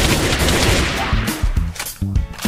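An M4 rifle firing rapid bursts in a video game: loud, close, rattling automatic fire that sputters in repeated bursts with brief gaps, no talk.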